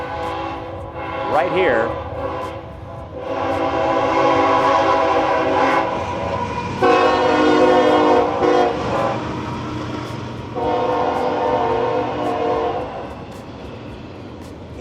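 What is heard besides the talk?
train passing through Fortville, Indiana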